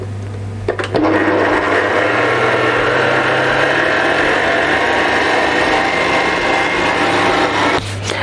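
An electric mixer beats sugar and margarine into creamed cake batter, a loud steady motor whir that starts abruptly, runs evenly for about seven seconds and then cuts off.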